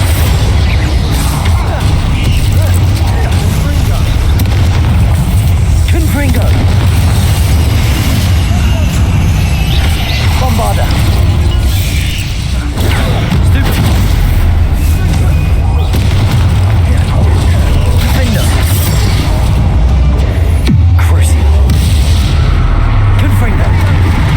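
Bombarda spell blasts in the Hogwarts Legacy video game during a catacomb fight, with heavy booming impacts and rumbling bursts over a dense, loud game mix with voices.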